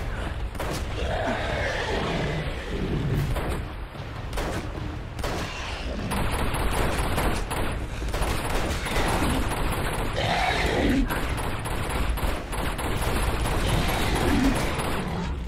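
Dense gunfire in Uncharted 2: Among Thieves, with rapid bursts and sharp shots crackling almost continuously, mixed with mechanical clatter and occasional booms, loud and close throughout.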